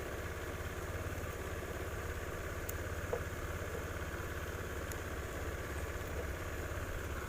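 A Honda Vario scooter with a battery fault runs at a steady idle, its engine a constant low drone and buzz up close with no clear rise in pitch.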